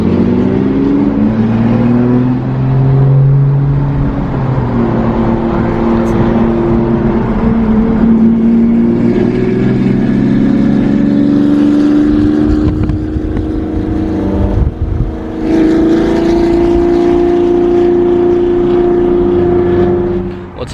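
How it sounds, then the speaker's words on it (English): BMW 440i exhaust revs hard and loud, its pitch climbing and falling through several sweeping pulls over a steady engine drone, close by and with no talk. "Now that's an exhaust V12"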